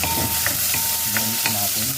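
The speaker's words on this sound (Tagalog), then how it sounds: "Start na tayo para mag-saute or mag-gisa." Chopped ginger sautés in a pan, with a loud, even sizzle and a few short clinks and scrapes of a spatula stirring it, close up and without voices.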